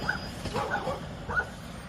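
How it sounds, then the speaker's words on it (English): Two or three dogs behind a fence on a park hiking trail give short excited yips and barks in a few scattered bursts, moderately close among outdoor background noise. "Well, of course they're barking."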